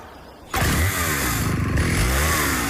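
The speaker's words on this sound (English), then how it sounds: "how can an XP chainsaw from Husqvarna help you work both faster and safer?" A Husqvarna XP chainsaw bursts into a loud, steady running roar after half a second of quiet, its rough buzzing engine note holding at full volume to the end.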